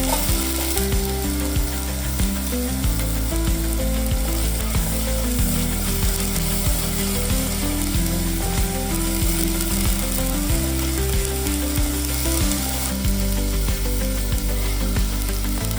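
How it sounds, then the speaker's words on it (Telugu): Ginger garlic paste frying in a clay pot for chicken curry, stirred with a ladle: a constant loud sizzle with a steady rhythmic scraping and clacking throughout, no talk. "ఒకసారి గరిటితో మీరు ఒకసారి తిప్పుకోండి పచ్చివాసన పోయేదాకా తిప్పుకోండి అల్లం వెల్లుల్లి పేస్ట్"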